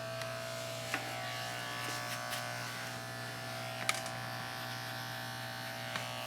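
Electric hair clippers doing a low fade on dirty blonde hair give off a steady, close, quiet buzz the whole time, broken by a few brief light ticks and snips as the blade tips through the hair.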